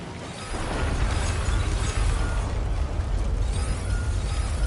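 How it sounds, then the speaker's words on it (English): Heavy rain in Death Stranding 2 roars as a loud, dense, continuous wash with a rumbling low end, steady throughout with no voices. "Oh wow, that's some heavy rain."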